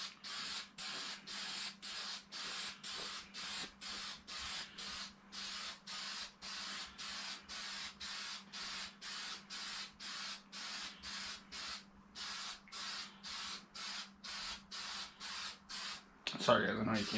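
Spray paint is applied to a JConcepts Firebird body for a Traxxas Drag Slash RC car in a long series of short, evenly spaced hissing bursts, about two per second, close and clear, ending with a brief clatter.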